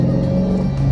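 A Dodge Challenger 392 SRT Scat Pack with its 392 V8 revs hard and steadily, a loud, close engine roar with a deep low rumble that holds for under a second.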